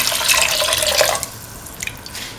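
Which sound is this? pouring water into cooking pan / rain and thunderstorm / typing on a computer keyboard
pouring water into cooking pan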